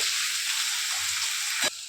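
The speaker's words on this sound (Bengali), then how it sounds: "আমি এখন নাড়তে থাকবো, পেঁয়াজটা লাল লাল হয়ে আসবে" Onions and green chilies frying in a pan as they are stirred, a steady close bright sizzle throughout with a brief louder scrape near the end.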